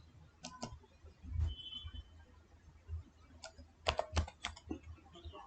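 Typing on a computer keyboard while opening Windows 11 settings, a few scattered clicks followed by a quicker burst of keystrokes, close and fairly quiet.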